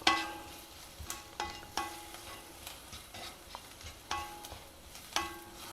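Onions fry with green chillies and chilli powder in a pan for a potato sabji, giving a quiet, steady sizzle broken by repeated sharp spatula taps and scrapes, with no talking.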